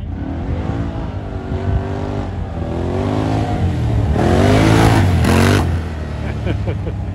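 A Can-Am Maverick X3 4x4 engine revs hard during trail wheelies, rising and falling in pitch and swelling to a loud, close peak before easing off, with voices faintly underneath.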